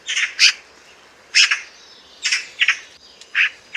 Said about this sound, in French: c'était la pie bavarde